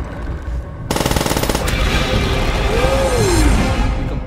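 Call of Duty match with loud, continuous automatic gunfire starting abruptly after a quiet moment, a dense rapid burst followed by sustained battle noise and a whistling artillery shell arcing overhead.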